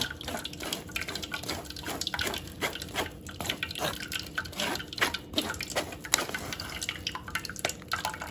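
Liquid from grated corn for a Brazilian corn cake drips and trickles through a strainer, a busy, steady patter of close, irregular drops with no voices.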